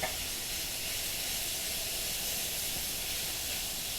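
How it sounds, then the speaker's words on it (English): Carne asada sizzles on an oiled Blackstone griddle in a steady, even hiss that holds without pause, close and consistent, with no voices. "Anytime using a Blackstone, you want to make sure you have plenty of oil. Okay, now I'm adding the carne asada."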